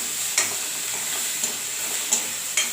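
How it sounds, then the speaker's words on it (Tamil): Tomatoes with rock salt are stirred in a hot pan, giving a constant sizzle with a few sharp spoon taps and scrapes at intervals. "உப்பு போட்டலாம் தேவையான அளவு நல்லா மிக்ஸ் பண்ணிக்கலாம்"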